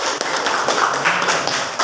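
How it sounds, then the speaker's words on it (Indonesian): Classroom students applauding a classmate during a lesson, a brief burst of close, busy clapping with a few heavier taps mixed in, with no talk over it. "Tepuk tangan untuk Anda."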